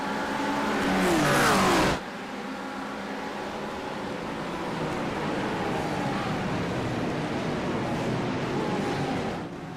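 GT3 race cars in a sim racing game at Daytona, a steady roar of several engines droning together without a break, with a brief louder burst of engine noise at the start.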